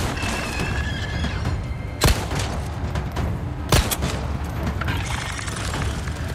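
Gunfire in Resident Evil 4 Remake: two sharp, loud shots about two seconds apart ring out over a dense, rumbling game soundscape of background noise and scattered softer impacts.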